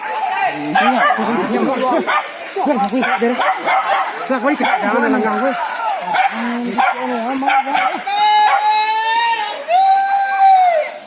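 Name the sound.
hunting dogs barking during a wild boar hunt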